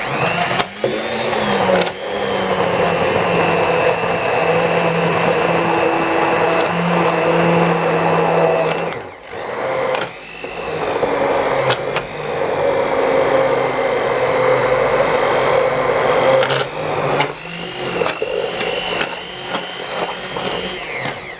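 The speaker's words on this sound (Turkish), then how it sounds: "Şimdi e, e, çorbamı güzelce krem haline gelene kadar püre yapacağım." A blender purees tomato soup with apples, a loud continuous motor whine with a couple of short dips in speed, steady and close with no talking.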